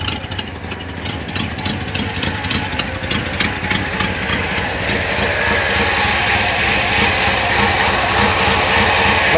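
A Chevrolet Monte Carlo with dual exhaust cold-starts and runs steadily, a close, loud, continuous engine rumble with a rapid pulsing at first that smooths into an even idle.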